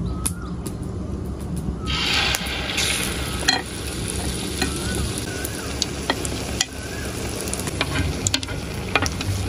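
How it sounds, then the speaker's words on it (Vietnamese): Battered potato slices frying in hot oil, a steady close sizzle and crackle with occasional sharp pops and spatters throughout, no talking. "Giờ dầu cũng nóng rồi mình đổ vô mình chiên thử."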